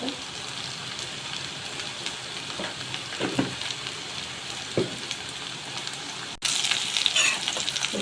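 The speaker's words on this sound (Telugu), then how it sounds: "ఉల్లిపాయలు దూరంగా వేయించుకుంటే టేస్టీగా ఉంటుంది." Chopped onions fry in a pan for a palak and spring onion curry, giving a steady close sizzle with scattered pops and stirring scrapes that grows louder near the end.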